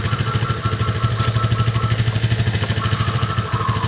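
A Suzuki Skydrive/Skyway scooter engine runs steadily close by after a new battery install, with a continuous rapid low putter and a mechanical ticking rhythm throughout, no talking.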